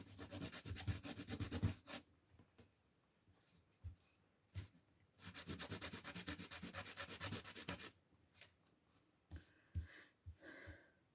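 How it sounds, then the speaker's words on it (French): A scrapbooking stencil is wiped clean in repeated scrubbing, rubbing strokes, coming in bursts with brief pauses between them, close and quiet. "Donc, je nettoie le pochoir."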